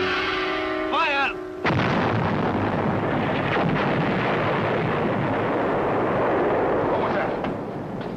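Artillery fire sounds as a sudden heavy blast after a brief exclamation, followed by a long rumbling, roaring wash that slowly fades, with voices at the start.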